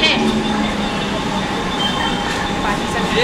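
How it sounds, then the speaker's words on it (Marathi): A slow suburban local train on the Kharghar line standing at a station platform, a loud steady rumble of carriages with faint squeals and station bustle, with voices in the background. "प्लॅटफॉर्म क्रमांक 1 पर आई हुई लोकल 11:02 खारघर लाइन से मार्ग सिंहों की धीमी लोकल है।"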